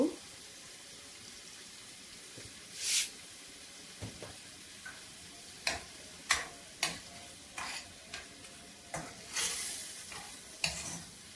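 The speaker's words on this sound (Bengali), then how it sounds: "চাল আমি নেড়ে ছেড়ে দুই তিন মিনিট বেজে নেব" Basmati rice being stirred and fried in a pan, giving a series of short, close scraping and rustling strokes at an irregular pace over a faint sizzle, with no talk.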